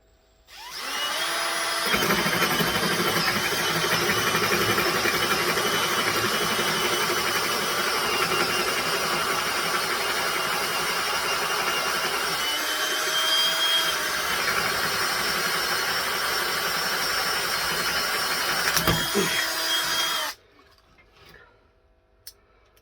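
Hole saw boring through a piece of dry wood, a loud steady grinding whine that runs continuously for about eighteen seconds, dips briefly partway through, then cuts off abruptly.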